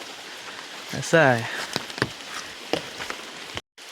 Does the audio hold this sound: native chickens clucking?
no